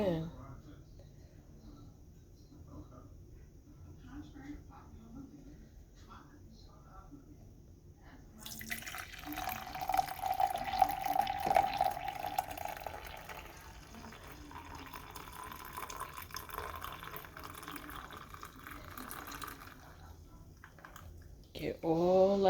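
Hot milk is poured into a black sesame, cinnamon and ginger drink, giving a soft, steady liquid trickle at moderate volume. A person talks over the pour.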